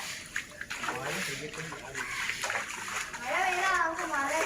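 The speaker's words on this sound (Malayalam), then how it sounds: "നീ അതിനകത്തോട്ടിരുന്ന് നീന്തി കുളിച്ചോ?" Children splash and play in water in a small outdoor pool filled by rain, with sloshing and splatter mixed with kids' chatter and a voice rising near the end.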